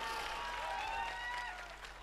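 Audience at a mushaira in Ballia applauds in a steady, dense wash of clapping that holds for a couple of seconds and tapers slightly toward the end.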